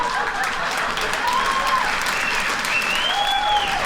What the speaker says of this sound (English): No, don't clap for that.